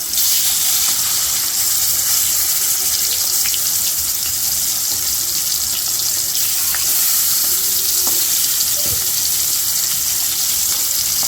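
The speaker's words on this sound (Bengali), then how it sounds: "এই যে মাংসগুলো উল্টে পাল্টে ভালো করে ভাজে নিতেছি। আর তেল যে কি করতাম ছিটাইতেছে" Pieces of home-raised chicken frying in spitting oil in a pan, a steady dense sizzle with occasional crackles and pops running throughout, close and loud.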